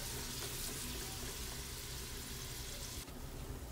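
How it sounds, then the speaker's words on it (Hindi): Minced meat fries in a pan, a dense continuous sizzle with a constant hiss close by and no talking. "कीमे को आपने तकरीबन 10 मिनट तो ज़रूर भूनना है"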